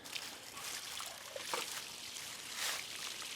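Water poured and trickling onto a Mr. Heater propane heater/cooker, a steady light splashing and dribbling for a few seconds with small surges, close and moderately quiet.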